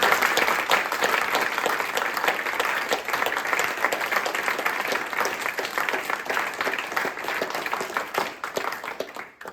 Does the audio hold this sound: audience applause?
yes